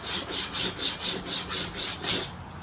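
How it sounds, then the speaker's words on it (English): A scraper rasps along the binding of a Trigger 2 guitar in about eight even, rhythmic strokes, close and fairly loud, with no voices. "Take your scraper, get your file, and just make sure it's got an edge on here."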